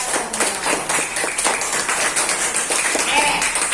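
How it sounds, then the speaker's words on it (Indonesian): A school class claps hands together in a classroom, a busy, steady patter of many hands with voices mixed in beneath. "Oke, tepuk tangan dulu untuk kita."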